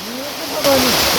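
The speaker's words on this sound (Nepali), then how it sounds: "यहाँ पुरै असिना पर्यो" Hail pelts down during a bicycle ride toward Kavre in Nepal as a dense, hissing rattle that swells suddenly louder partway through, while someone talks over it.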